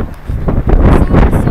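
Strong wind in Cannes gusts hard against the microphone, a rough, loud rumbling roar that swells and dips in quick bursts over a short stretch.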